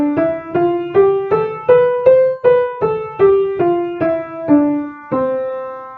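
Piano playing a major scale up and back down with evenly spaced single notes, a clear close rising then falling run of about a dozen tones, alone.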